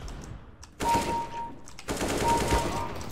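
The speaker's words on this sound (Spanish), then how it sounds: "Cuando son subs siempre te están disparando" Automatic gunfire in the video game CS:GO, rapid bursts of shots that start abruptly and fill most of the stretch, dense and fairly loud with brief gaps between volleys.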